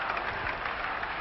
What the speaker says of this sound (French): Emiliano Rodriguez revient sur le terrain, applaudi bien sûr